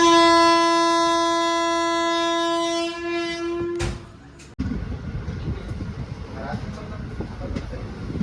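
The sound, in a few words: train travelling through hills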